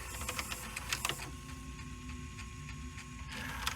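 Panasonic PV-V4621 VCR tape mechanism rewinding, a faint whirring motor tone with soft ticking and clicks from the mechanism, heard close with no talking.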